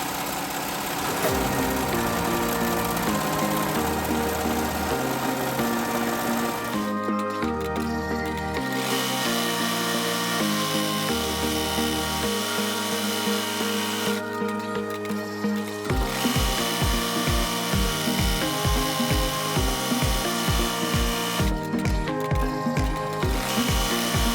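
An embroidery machine stitches black thread around a teacher ID badge card to attach clear vinyl, making a steady mechanical rattle and hum with rhythmic stitching pulses that pause and restart several times.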